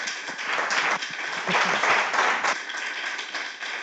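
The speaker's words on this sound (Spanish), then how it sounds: "vamos a lo primero a darle un aplauso a José Luis por su charla" An audience applauds a speaker after a talk on Spanish healthcare, a full, steady burst of clapping from many hands that swells in the middle and continues evenly to the end.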